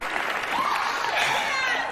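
Audience at the Oscars cheering and applauding for Will Smith's acceptance speech, a steady wash of clapping and crowd noise from a large hall.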